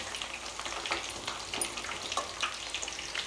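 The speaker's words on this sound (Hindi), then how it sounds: "ये हमने भगोनी रख दी थी दाल बघारने के लिए" Mixed dal tempered in a pot produces a quiet, crackling sizzle that stays steady and close throughout, with small spitting pops and no voices.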